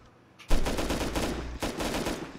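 Automatic turret fire during a raid defense in a video game, a loud rapid burst that begins abruptly after a quiet moment, breaks briefly, then resumes as another sustained volley.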